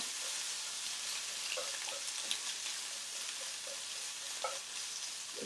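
Bamboo shoots stir-fry in a hot pan for Japanese tenshin don, a dense continuous sizzle with occasional scraping stirs, close and steady, no talk.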